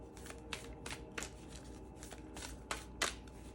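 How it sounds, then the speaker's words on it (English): Tarot cards being shuffled by hand in a series of crisp riffling bursts, about eight quick flutters spaced irregularly over a soft steady background, the last one loudest. "I don't know how to shuffle today,"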